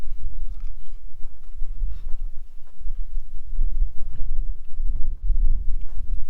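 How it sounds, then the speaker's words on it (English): Wind gusts outdoors at a chilly winter truck camp, heavy low rumbling buffets against the microphone that rise and fall in waves throughout. "The wind definitely picked up a little."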